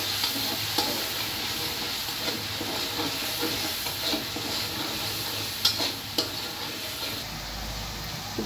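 Crispy fried onions stirred into a pan with ginger and garlic paste give a steady loud sizzle, with occasional scrapes and clicks of a spoon against the pan throughout.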